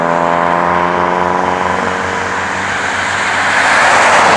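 A car engine hums steadily and then swells as the vehicle speeds past, loud and nearby, with a rushing tire and road noise.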